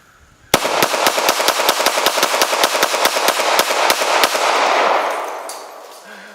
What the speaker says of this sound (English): Let's see how it does on rapid fire.